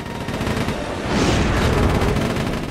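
Continuous gunfire in the PS2 game Sly 3: Honor Among Thieves, a dense sustained barrage with unlimited ammo, loud and steady throughout with no voices over it.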